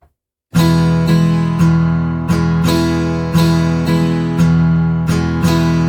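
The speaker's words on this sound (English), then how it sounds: "I am going to strum the entire chord right there as well." Strummed guitar chords from the Evolution Guitar Engine virtual instrument, loud and close, ringing in a steady series of about a dozen strums with bright attacks and sustained tones between them.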